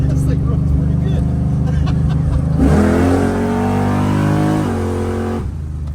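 A race car engine revs hard on a track, a steady loud drone rising sharply in pitch around mid-clip, holding high, then dropping off near the end; voices talk over it throughout.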